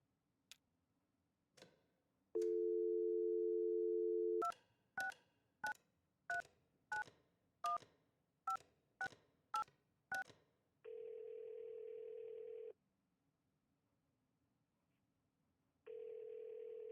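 A telephone in the Kentucky Route Zero video game: two faint clicks, a steady dial tone, a quick run of about a dozen evenly spaced dialing beeps, then two long ringback tones, clean and close with no talk.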